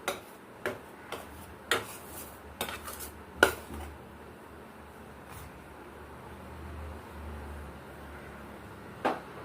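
A metal spoon stirs hot oil into flour dough for shankarpali in a bowl, making scattered sharp clinks and taps against the dish over quiet scraping, with no talking.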